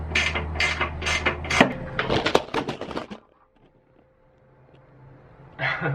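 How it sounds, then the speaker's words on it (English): Bolts being worked loose from the air conditioning motor of a Pilatus PC-12 aircraft, heard as a run of close ratcheting clicks and metallic tool sounds that stop abruptly, leaving near silence before a short final burst. "Next thing is to remove the rest of the bolts, and we'll go ahead and pull the motor out."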